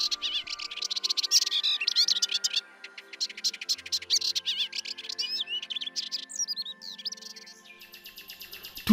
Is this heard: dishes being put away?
no